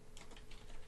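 Keystrokes on a computer keyboard entering a command at a Windows command prompt, a short quiet burst of a few taps under steady background hiss.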